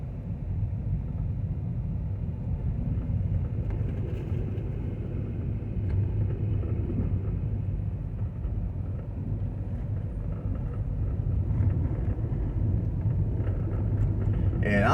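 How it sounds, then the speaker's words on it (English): A car drives along a fairly busy snowy, hilly road in Alabama, its low steady road rumble and engine drone continuous throughout, with someone talking faintly over it. "I am still driving down a fairly heavily traveled road"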